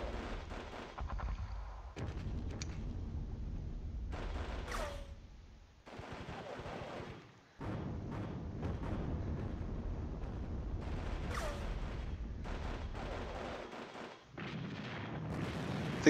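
Gunfire and artillery in the Normandy wargame Panzer Battles sound as a dense, continuous rumble of distant booms and crackling shots, steady and loud with two brief lulls, and no voices.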